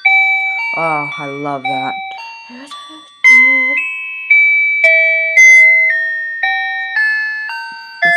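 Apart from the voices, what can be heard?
talking alarm clock playing the melody Beautiful Dreamer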